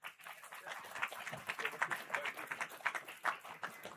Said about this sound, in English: y'all supposed to clap for that?